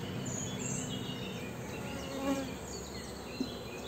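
Honeybees buzzing steadily on a frame they are building out, a dense close hum with passing individual buzzes and no talking.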